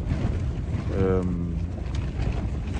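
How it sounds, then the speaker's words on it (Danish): Strong wind on a hike in Norway, from Vossvangen toward Vola, roars steadily into the microphone as a loud, continuous low buffeting, with a brief voice-like tone rising out of it partway through. "det blæser sindssygt meget, og det er pissekoldt"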